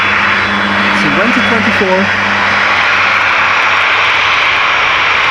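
A KLM Boeing 737-700 departing runway 18 left at Amsterdam Schiphol produces a loud, steady jet roar that persists throughout, with someone talking briefly over it early on.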